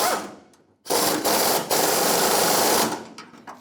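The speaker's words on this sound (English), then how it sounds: "let's get my air gun" A pneumatic air impact gun hammers at the fuel tank strap bolts on a 1992-1996 Ford F-150, two loud sustained bursts of rapid rattling close by, separated by a short pause, with no talking.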